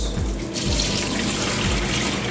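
Tap water runs steadily over rice being washed, a loud and continuous rushing splash close by.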